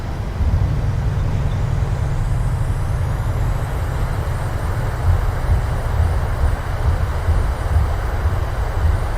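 Thrust reversers deploying on a PMDG 737-800 landing in Microsoft Flight Simulator, a loud, steady broadband jet roar with deep low rumble that swells and holds throughout without talk.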